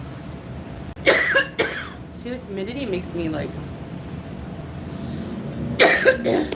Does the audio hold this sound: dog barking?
no